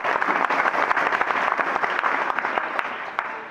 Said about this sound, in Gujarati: ટીમને એકવાર જબરજસ્ત અભિનંદન આપીએ અને જોરદાર તાળીઓ દીધી.